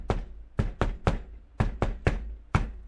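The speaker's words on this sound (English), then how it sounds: "knocking out an old Malashian jingle on his door" Knuckles rap out a rhythmic jingle on an office door, eight crisp, close knocks grouped in uneven beats with short pauses between clusters, heard alone without talk.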